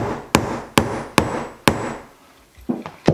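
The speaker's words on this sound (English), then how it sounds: "just use a nice ball peen hammer and everything gets locked in" A ball peen hammer strikes rivets in leather belt rosettes on a small anvil, four sharp evenly spaced blows followed by a pause and a few lighter taps, close and distinct.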